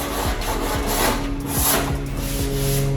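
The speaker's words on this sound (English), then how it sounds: "so this is 80 grit sandpaper" Sanding body filler on a car guard by hand with 80 grit sandpaper, a loud, continuous coarse rasping rub with rhythmic back-and-forth strokes about every half second, close up.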